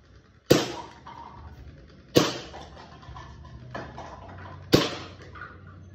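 Three sharp, loud shots from a WE G17 replica airsoft pistol ring out at irregular intervals, each with a crisp snap and short decay, plus a fainter pop in between over low room noise.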